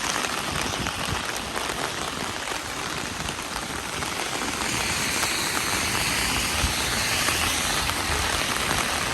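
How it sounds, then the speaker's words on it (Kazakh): Heavy rain pours steadily onto a street in Incheon, Korea, a dense, continuous hiss of a downpour with no break. "Жаңбыр ужасный."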